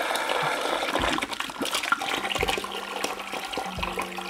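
Water rushes and gushes from an opened household plumbing pipe, a steady close splashing flow with a few knocks and clunks of handling.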